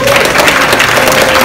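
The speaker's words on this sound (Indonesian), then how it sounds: "Kita berikan tepuk tangan yang meriah." An audience in a lecture hall breaks into loud, dense applause at an academic dissertation event, a brief burst of many hands clapping close by.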